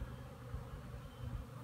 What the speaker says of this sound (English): All the bees